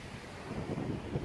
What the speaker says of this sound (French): il y a vachement de vent aujourd'hui